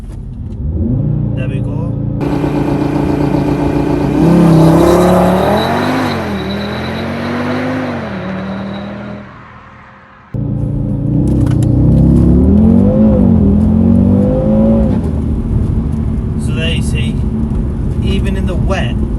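A car launches hard using launch control on Goodyear Eagle F1 Supersport tyres on a wet road, the engine revving up through rising pitch sweeps, dropping off, then pulling again; a voice speaks briefly over it.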